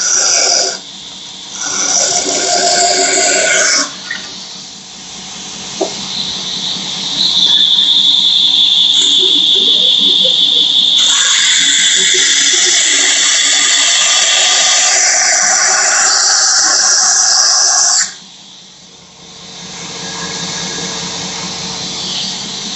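A belt grinder fitted with a Black Dragon bevel grinding jig grinds a knife bevel, removing material in a loud steady high-pitched whine that rises and holds for long stretches, then drops off near the end.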